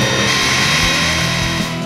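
An angle-grinder-powered homemade trolling motor on 24 volts runs loud and close, holding a constant high motor whine with a low rumbling undertone throughout.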